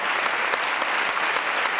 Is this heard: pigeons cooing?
no